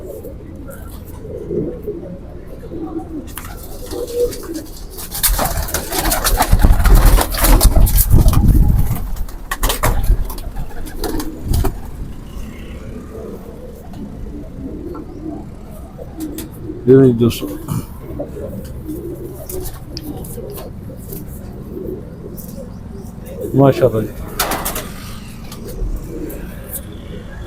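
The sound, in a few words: pigeons cooing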